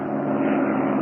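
A steady drone of an airplane passing overhead, a continuous broadband roar that holds level throughout this short moment, with no voices.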